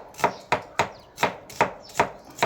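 Onion chopped finely with a knife on a board for an omelette: six or seven evenly spaced crisp chops in a steady rhythm, close and clear with no talking.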